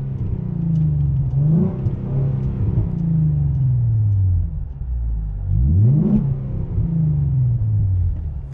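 A Ford Mustang fitted with a new exhaust revs hard, its engine rising and falling in two loud sweeps over a steady rumbling idle, heard up close with no talking.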